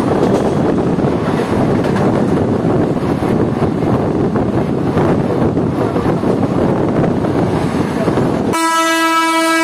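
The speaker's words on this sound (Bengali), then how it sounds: "রাধিকাপুর কলকাতা ওভারনাইট এক্সপ্রেস দেখতে পাচ্ছেন আপনারা, এলএসবি রান নিয়ে কলকাতা স্টেশন ক্রস করছে উইথ Y5 লোকোমোটিভ।" The Radhikapur–Kolkata Overnight Express crosses Kolkata station behind a Y5 locomotive, a loud, close, continuous rumble and clatter of rail cars with wind buffeting, ending in a brief tonal horn-like blast.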